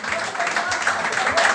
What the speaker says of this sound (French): On peut applaudir Eric s'il vous plaît